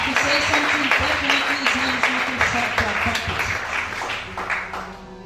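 A church congregation applauds and cheers at a service, with dense clapping that is loud at first and gradually thins out, mixed with voices.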